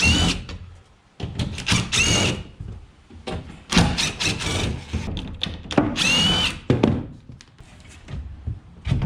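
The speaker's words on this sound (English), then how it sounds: "Start peeling panels, see what's back here." Plywood panels are pried off the inside wall of an enclosed trailer, giving close, loud cracking and creaking in repeated bursts, with thuds and scrapes between the pulls.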